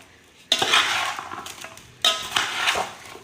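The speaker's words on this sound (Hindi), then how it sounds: "इसको फिर से मिक्स करेंगे अच्छे तरीके से" A spoon scrapes and clatters around a pot while mixing carrot pickle, two loud bursts of metallic stirring starting about a second and a half apart, close and busy with no voices.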